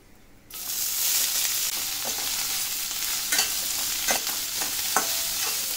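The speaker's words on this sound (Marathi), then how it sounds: "कांदा जोपर्यंत आपला भाजतोय" Chopped onions sizzle steadily in a pan for a Maharashtrian sprouted moth bean usal, with occasional soft clicks of stirring over a constant frying hiss.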